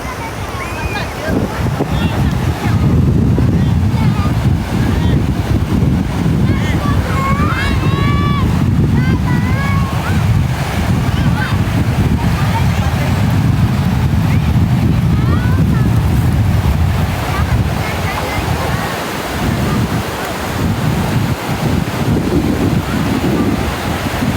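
Sea waves wash in at Chao Lao beach in Chanthaburi, a steady loud surf rush mixed with wind buffeting the microphone, while people talk and call out over it.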